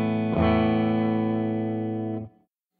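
A dry electric guitar chord driven through an overdrive pedal rings out once, a thick harmonic-rich sustain that holds for about two seconds before cutting off abruptly into silence, alone and close.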